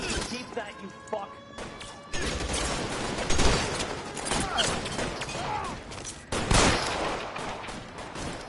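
Gunfire from the video game L.A. Noire, with rapid shots and crashes in a chaotic firefight, mixed with game voices shouting over the action.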